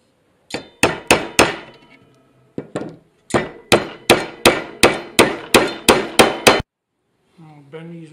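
Sharp hammer blows drive a staple into a wooden snare-style mouse trap modeled on a 430-year-old Mascall design: three quick strikes, a pause, a single hit, then a steady run of about nine loud, close knocks before a faint voice.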